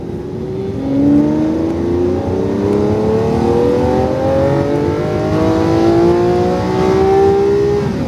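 A car on a driving course accelerates hard out of a turn, its engine note climbing steadily in pitch through several rising sweeps, loud and close with a steady roar; no talking.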